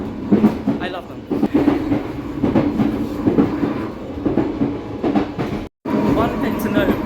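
An Isle of Wight passenger train rolls along its rails with a steady rumble and rhythmic clickety-clack of the wheels, heard from inside the carriage, loud and continuous with a brief cutout near the end.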